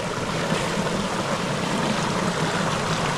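Water from a mountain spring flows in a constant broadband rush, close and steady over a few seconds, with no voices.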